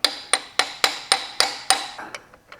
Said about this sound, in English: You can get it on the wrist pin and just whack it out gently